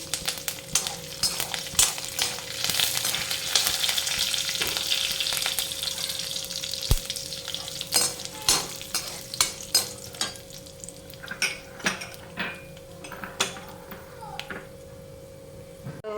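Chana dal, peanuts and curry leaves tempering in hot oil in a pan, a steady crackling sizzle with repeated sharp scraping clicks of a spatula stirring, close and fairly loud throughout.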